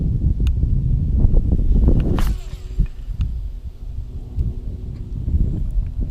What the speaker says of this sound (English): we got a wind coming straight into me